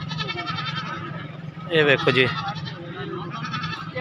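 Goats and a nanny goat with kids at a livestock market bleat, with one loud, wavering bleat standing out near the middle over steady background bleating. Someone speaks briefly.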